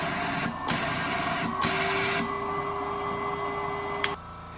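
A Foredom Wolf sand blaster runs with its lid shut, forcing blasting media through the nozzle in a steady, loud broadband hiss that surges in brief bursts before settling to a constant rush.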